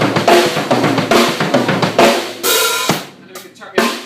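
A drum kit plays a fast sextuplet fill of dense, rapid hits that ends on a flam on beat 4, followed by a ringing cymbal-like wash and one last sharp hit, loud and close with no talking.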